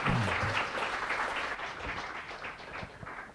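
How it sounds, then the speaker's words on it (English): A full round of audience applause at a spiritual talk, loud at the start and gradually tapering, with individual claps audible in the sustained patter. "So if you could please give a big round of applause to His Holiness."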